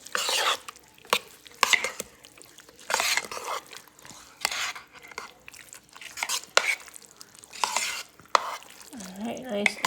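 Crumbled cheese being stirred into rice and beans in a pan, repeated close bursts of wet scraping and mixing in an uneven rhythm, with a short voice at the very end.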